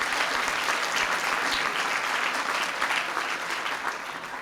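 A reception crowd gives President Clinton sustained applause at a 1997 Saxophone Club event, a dense, loud roar of clapping that holds steady and tapers slightly at the end.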